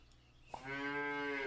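A cow moos in the Super Auto Pets video game, one long, loud, drawn-out low moo rising after a brief quiet lead-in and a short click, heard alone.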